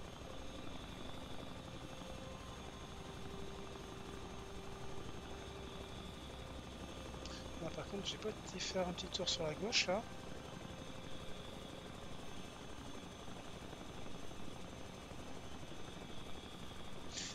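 A helicopter flies in the survival video game The Front. Its engine and rotor keep up a steady, fairly loud drone through the whole stretch while someone talks over it.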